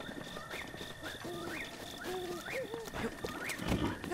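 A horse's hooves clip-clop at a slow, even pace in Zelda: Breath of the Wild, moderately loud amid the game's soft rising tonal sounds, with no talking.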